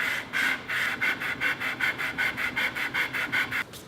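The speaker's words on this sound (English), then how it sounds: "just rub it back and forwards gently. It's important to note that the grain on my feet run back and forward. So I've got 320 grit sandpaper here." Small wooden feet rubbed back and forth on 320 grit sandpaper, giving a steady run of about a dozen close, even rasping strokes with no talking.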